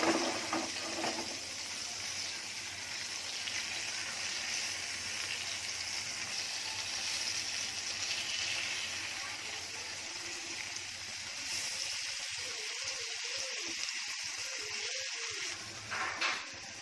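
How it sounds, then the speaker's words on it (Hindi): Komat fish sizzling steadily in an oil-filled frying pan, a continuous broadband hiss with a few faint clinks and scrapes near the end as the fish is turned and the pan handled. "अब दोबारा हर तरीके से उसको बराबर फ्राई करके लूँगी"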